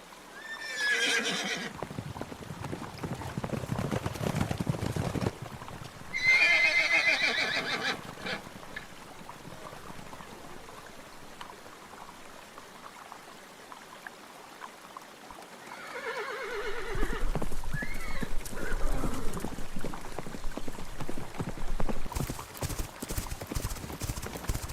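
Horses neigh and whinny loudly in several bursts over a steady clip-clop of hooves, with the trotting continuing throughout a warlike scene of many mounted warriors.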